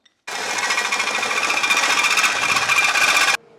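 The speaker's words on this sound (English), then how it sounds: "drill a hole in each end with a hole saw" A hole saw cuts into steel tube for a custom van build, a loud, steady, rapid chattering buzz that runs for about three seconds and then stops abruptly, with no talking.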